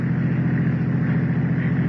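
A truck's engine rumbles steadily and loudly in a radio-drama sound effect, a continuous low drone holding close throughout without voices.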